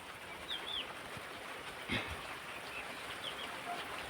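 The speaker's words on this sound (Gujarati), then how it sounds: "એવો મોટા મોટા છાંટા આવે છે" Rain falls on an open village field in a steady, moderately loud hiss, with fleeting bird chirps above it and one brief louder patter near the middle.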